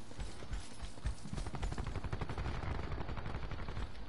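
Rapid video game gunfire, a fast even burst of shots that continues for several seconds, loud and close, with no one talking.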